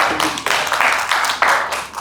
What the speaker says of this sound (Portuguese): mais uma salva de palmas para os nossos painelistas